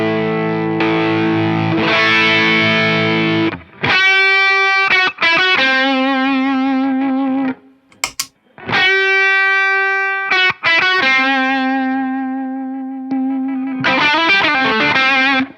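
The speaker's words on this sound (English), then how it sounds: "So when I turn on the compressor, you'll hear it kind of get a little more compressed" Electric guitar played through an LPD Pedals CLE-304 compressor pedal, with distorted, sustained chords and single notes in several loud phrases separated by short gaps, no talking.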